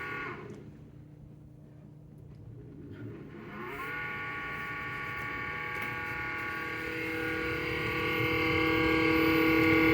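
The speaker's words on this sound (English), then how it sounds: "So that's the sound of the dishwasher." A steady mechanical hum and whir that builds gradually, with swishing water-like noise underneath, continuous and fairly close.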